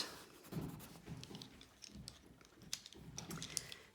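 Steady scratching of a hard Crayola colored pencil on paper under medium to firm pressure, short strokes in an uneven rhythm, close and fairly quiet.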